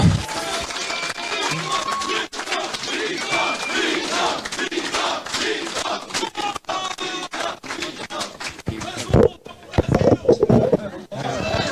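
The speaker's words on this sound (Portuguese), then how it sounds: "Vamos dar uma salva de palmas para o Mito." A crowd at a political meeting in Hamamatsu, Japan, claps and chants in unison for Jair Bolsonaro, a loud, dense swell of voices with scattered sharp claps, continuing for several seconds.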